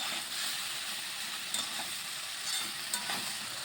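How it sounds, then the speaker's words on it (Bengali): Beans, eggplant and potato sizzle steadily in a pan while being stirred, with a continuous hiss of frying broken by a few faint scrapes of the spatula. "এখন এই সবজিটাকে আমি ভালোভাবে ভাজা করে নেব।"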